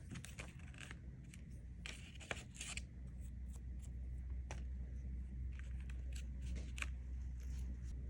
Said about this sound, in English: I'm going to cut a diagonal line to make a beak